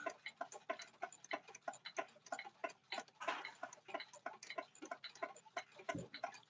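A Seth Thomas Sonora grandfather clock with nine bells ticks steadily and evenly, its crisp mechanical beats close and continuous at a low overall level with no other sounds.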